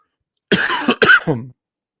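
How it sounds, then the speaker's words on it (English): Three quick, close coughs from a person with allergies, one burst after another with a brief catch between, loud and clear with no talking. "I promise you guys, this is all allergy related. My coughs."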